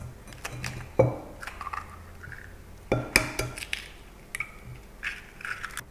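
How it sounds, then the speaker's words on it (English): Two eggs cracked into a bowl for a baking mix, with sharp shell taps and cracks at two separate moments, followed by softer clinks and small wet sounds close by. "in the bowl I'm just going to add 2 eggs"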